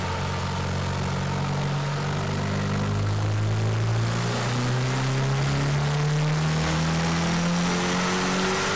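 A truck engine, boosted through an AEM TruBoost controller at a 25% duty cycle, revs up under load on a dyno, a steady loud drone whose pitch climbs across the pull with no talk over it.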